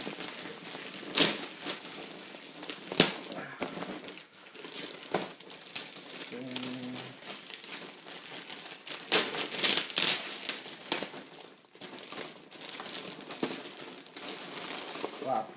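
A flimsy plastic Megazord costume helmet is handled up close, crinkling and crackling in irregular bursts with occasional sharp taps and soft background noise.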